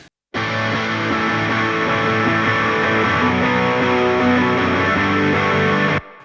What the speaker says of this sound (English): That is the sound of filter combing.